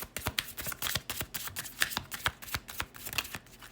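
Angel Therapy Oracle cards being shuffled by hand, a close, steady run of quick papery riffles and flicks that repeat rhythmically without pause.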